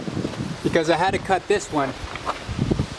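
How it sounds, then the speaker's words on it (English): Strong wind buffets a microphone outdoors beside a school bus conversion, low rumbling gusts running under a man's close speech. "it's really windy right now"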